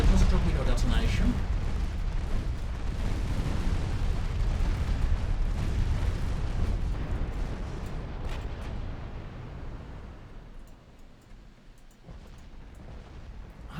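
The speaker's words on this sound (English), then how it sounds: "I think it was a torpedo detonation" A torpedo detonation against a warship in the naval battle game Ultimate Admiral Dreadnoughts, heard as a heavy rolling boom and a long, deep rumble. The rumble slowly fades into quieter crackles.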